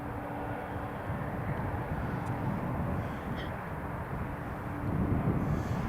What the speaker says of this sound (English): Here comes our third arrival of the morning, KLM E2 from Amsterdam.